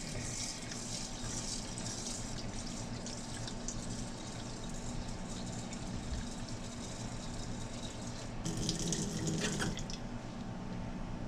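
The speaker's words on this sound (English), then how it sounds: "We're going to fill it up with water again." Tap water runs steadily and splashes into a bowl of rinsed long grain rice, growing briefly louder and brighter toward the end before settling.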